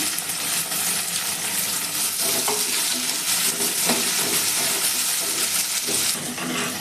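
Onions fry in a pan with garlic and ginger paste, making a loud steady sizzle under repeated spatula scrapes and light metallic clinks from stirring, close by and without speech.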